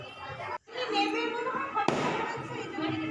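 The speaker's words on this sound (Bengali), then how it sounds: "ওই তো বর আসছে বাজি ফাটিয়ে" Fireworks bursting outdoors as a groom arrives at a wedding, with crackling pops and a sharp bang amid a busy crowd, while people talk nearby throughout.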